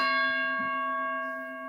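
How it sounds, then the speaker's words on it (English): A bell sound effect rings once with a clear, sustained tone that slowly decays, heard on its own with no talk over it. "let's hit the Ali Bell"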